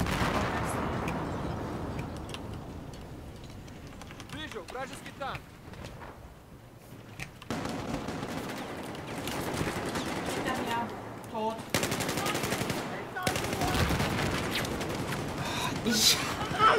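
A Battlefield 4 firefight with tanks bearing down brings rapid gunfire bursts and heavy booms, clustered in dense stretches with brief lulls, mixed under a voice talking.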